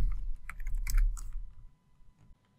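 Keystrokes on a computer keyboard while Python code is typed, a quick burst of clustered clicks that thins to a few scattered taps and then quiet.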